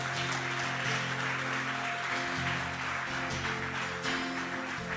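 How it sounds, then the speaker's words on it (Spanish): A congregation applauds at a church service, steady dense clapping throughout at a moderate level, with a low hum or music beneath it. "Ese aplauso no es para mí."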